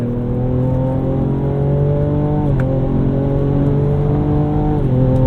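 A 2024 Ford Ranger Raptor truck engine pulls hard under acceleration, a loud steady buzzy growl with rising tones and two brief dips at gear changes, heard from inside the cab.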